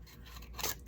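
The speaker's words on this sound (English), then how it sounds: "And then cut it all out with the scissors." Scissors cut through cardboard for a rustic Halloween craft, making a faint, close rasping snip that swells briefly near the end, with no talk.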